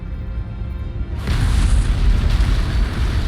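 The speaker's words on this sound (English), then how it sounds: "It must have been one of their boarding parties. I'd guess an antimatter charge." A loud explosion from an antimatter charge in the video game Halo: Combat Evolved erupts about a second in, becoming a sustained deep rumbling roar that fills the rest of the moment.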